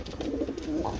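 Turkish game pigeons give a short, soft, throaty coo close by, a brief warbling call within a single second.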